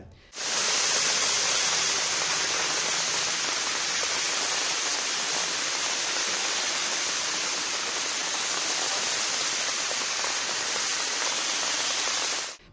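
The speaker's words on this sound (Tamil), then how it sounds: "வெள்ளிக்கிழமை இரவு முதல் தலைநகர் டெல்லியில் கனமழை வெளுத்து வாங்கியதால்" Heavy monsoon rain and floodwater in Delhi make a dense, steady roar of hissing water that stays constant and loud for the whole stretch, with no voices.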